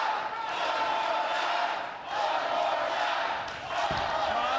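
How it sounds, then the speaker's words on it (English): A bowling arena crowd at the PBA Tour Finals 2023 championship roars in a steady, loud wall of cheering and rhythmic chanting, with brief dips between chants. "Kyle Troop leads the cheer here."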